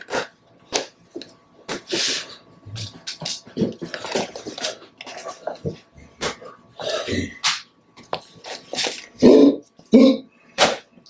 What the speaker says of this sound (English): Here we go with dogs.